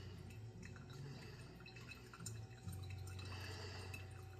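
Water trickles over coffee grounds during a final spiral pour, a faint, steady stream with soft drips in a quiet room.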